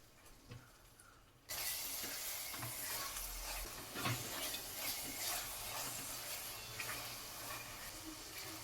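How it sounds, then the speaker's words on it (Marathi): Tomato paste sautéed in hot oil for chole, opening quietly before a loud sizzle bursts in and holds steady, with faint scraping and stirring underneath. "पेस्ट मिक्स करून तेल सुटेपर्यंत परतून घेऊया."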